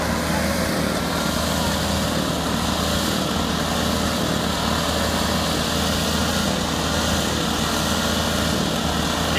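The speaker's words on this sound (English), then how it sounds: "And then number 3 of Tyler Robbins, we're going to have a drag to see who is going to be our winner of the lawnmower division" Several lawnmower engines drone and rev together at a demolition derby drag race, a loud, continuous buzzing roar with no break, while an announcer's voice may be faintly mixed in.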